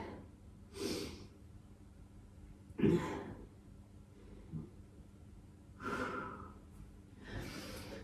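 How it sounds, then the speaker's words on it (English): Slow, deep breaths while resting in yoga child's pose, four or five soft inhales and exhales spaced a couple of seconds apart, close and quiet with no talking. "Couple of breaths there."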